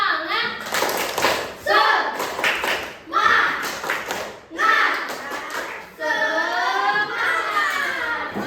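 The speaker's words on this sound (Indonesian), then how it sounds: "kita tepuk semangat dulu yuk" A class of primary-school children claps in a patterned encouragement rhythm, bursts of clapping alternating with the children chanting together in unison, lively and close.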